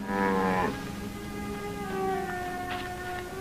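Cattle lowing in a remote mountain setting: a loud, drawn-out moo with harmonic bellowing opens the clip, followed by a softer, sustained tonal call that trails on for several seconds with no talking.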